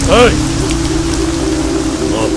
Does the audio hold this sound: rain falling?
yes